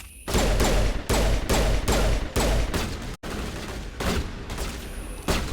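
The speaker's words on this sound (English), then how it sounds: "them shotguns hit hard as hell" Loud, rapid shotgun blasts from Mass Effect combat on Insanity difficulty, a dense volley of booming shots firing back to back with a brief gap midway, then more heavy shots.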